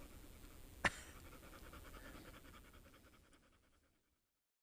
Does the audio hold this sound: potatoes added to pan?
no